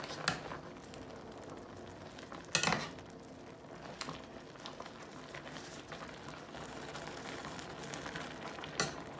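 A spoon stirring turnips and mustard greens in a cooking pot, faint scraping and clinking with a few sharper knocks against the pot over a soft simmering background.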